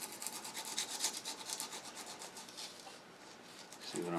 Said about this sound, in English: Take the burr off with some 120 grit